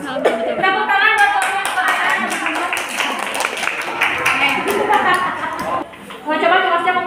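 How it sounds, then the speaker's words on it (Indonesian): A school class claps together for several seconds during a junior high microteaching lesson, with dense, fast, overlapping hand claps, voices chattering under and around them, and talk continuing after the clapping stops. "Tepuk tangan buat"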